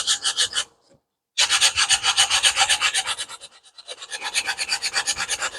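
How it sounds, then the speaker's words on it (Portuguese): Folded sandpaper rubs back and forth over a granilite surface in quick rhythmic strokes, loud and close, pausing once for a moment and then continuing in steady scraping bursts, with no talking. "Corto os pedacinhos, dobro assim no meio e aí eu começo a lixar"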